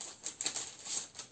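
Paper rustles and crinkles in quick, soft bursts as a handmade Memory Dex album is unwrapped and opened, close and fairly faint, with no talking.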